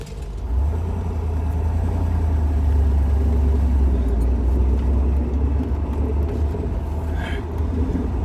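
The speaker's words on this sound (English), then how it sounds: "Here's the sound of the new exhaust." A 1963 Corvette C2 fitted with a new N11 exhaust rumbles steadily at close range, a deep, loud idle that holds almost unchanged for the whole stretch with no talk over it.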